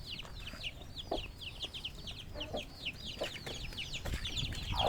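Backyard chickens, eight hens kept by a beginner, cluck in quick repeated bursts, a busy chorus of short calls close by with scattered soft thuds underneath and no talking.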